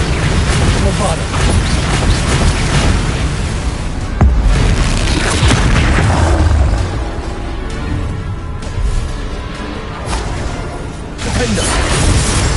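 A Bombarda spell goes off in the Hogwarts video game, a deep, loud boom with crashing debris that swells midway and rumbles on, heard under shouted spell names and steady game noise.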